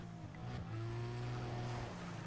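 A race car drifting in the video game Need For Speed ProStreet gives a steady engine drone with sustained tonal whine and a brief sliding squeal, moderately loud and continuous throughout.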